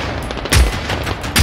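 Fireworks in the Generation Zero video game set in Sweden burst in two or three sharp, booming pops in quick succession, loud and close.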